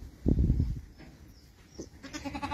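A ewe on a farm at lambing time gives one short bleat near the start, with quieter barn noise and a faint second animal call following.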